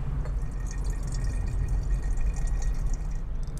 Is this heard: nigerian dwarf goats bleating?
no